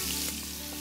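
Hot oil sizzles and smokes in a pan while rabbit stew is cooked, a dense, continuous crackling fry with no talk over it.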